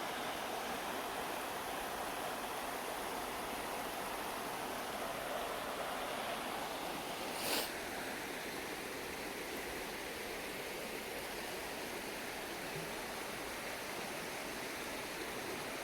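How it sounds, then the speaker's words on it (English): The Big Sur River in California rushes past riverside cabins, a steady, even wash of flowing water that stays close and constant throughout with no voices. "So this is the Big Sur River, which goes right past the cabin that we were staying in."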